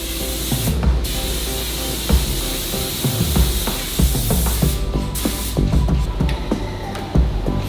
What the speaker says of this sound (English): the implement then enters the paint booth, where colored paint application takes place